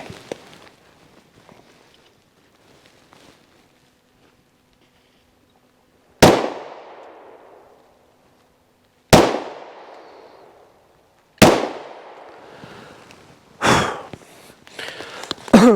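A Sarsilmaz SAR 9 9x19mm pistol fires three loud, sharp shots a few seconds apart, each ringing out with a long echoing decay, followed by a couple of softer clacks of gun handling.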